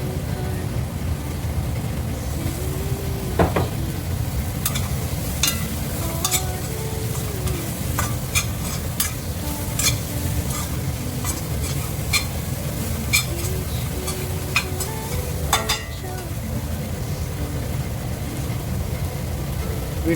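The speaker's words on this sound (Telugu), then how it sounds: "వేగట్లేదు అనిపిస్తే కనుక కొంచెం ఆయిల్ వేసుకొని ఫ్రై చేసుకోవచ్చు" Pigeon pea masala frying in oil in a pan makes a steady, close sizzle, broken by repeated light clinks and scrapes as a spoon stirs, with no talking.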